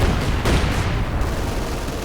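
Heavy mortars firing in the game Company of Heroes 2, a dense, loud rumble of distant blasts and booms that runs continuously with no clear gaps.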